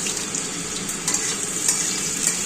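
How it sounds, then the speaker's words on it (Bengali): Cut new potatoes fry in oil tempered with slit green chilies and black cumin, giving a steady close sizzle and hiss with faint stirring clinks, no voices. "কিছুটা নতুন আলু কেটে রেখেছিলাম সেগুলো ছেড়ে দিলাম"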